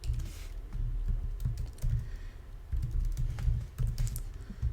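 A computer keyboard is typed on in close, steady clusters of soft clicking keystrokes, with no one talking.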